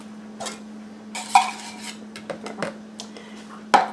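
Soup mixture for a chicken and rice casserole is scooped into a small bowl, with close, scattered clinks and scrapes of a utensil against dishes and a steady low hum underneath.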